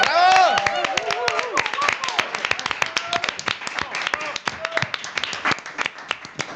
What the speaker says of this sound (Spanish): Un aplauso también para mi compañero Carlos Langa